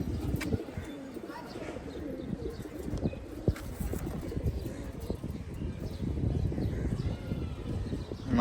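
Pigeons in a loft, including a male bird, give low, soft coos and make fluttering shuffles. Light chirps and faint background voices come and go.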